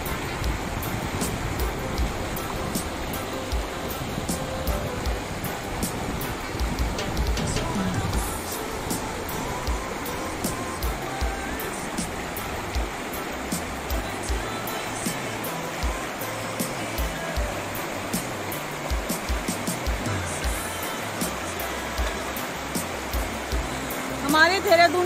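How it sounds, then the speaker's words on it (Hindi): River water rushing and burbling over rocks at Maldevta near Dehradun, a steady, broad, continuous wash heard close, with no break for the whole stretch. "यहाँ की नदी की जो लहरों की आवाज़ है कल कल करती हुई"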